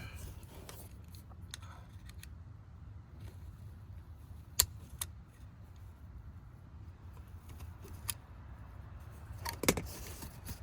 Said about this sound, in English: you want to take your flathead screwdriver and pop that blue tab back up